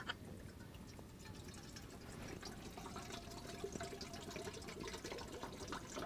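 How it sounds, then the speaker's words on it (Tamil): Water is poured into a cooking pot for noodles on a stove inside a boat house during a cyclone, a soft steady splashing trickle heard close and faint with no talking. "ஃபஸ்ட்டு நூடுல்ஸுக்கு தண்ணி ஊற்றிக்கிடுவோம்"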